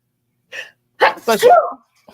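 A short sharp intake, then a loud abrupt burst like a sneeze, sounding close to the mic, followed by quiet.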